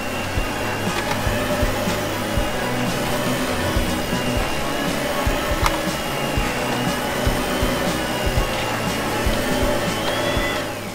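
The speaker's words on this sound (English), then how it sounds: "A vacuum!" A vacuum cleaner runs at an indoor playground, giving a steady, loud whirring drone with a high whine that holds for about eleven seconds, no voices over it.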